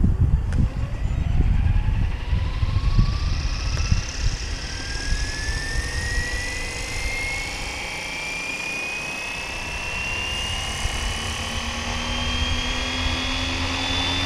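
A FlyWing Bell 206 model helicopter's motor whines and rises steadily in pitch as it spools up and lifts off, with rustling handling noise at the start, close and loud.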